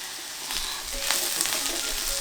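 Large pieces of garlic sizzle and crackle steadily in a hot frying pan as they cook alongside other ingredients for bangers and mash.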